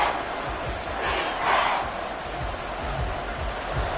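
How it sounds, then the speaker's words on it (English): Stadium crowd at Arrowhead roaring in a Madden football video game, a loud continuous swelling roar with a brief cheering peak in the middle. "The Arrowhead crowd in full roar."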